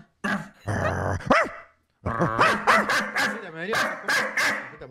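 A chihuahua barks and yips in sharp, rapid bursts close by, with a growl mixed in and people talking over and between the barks.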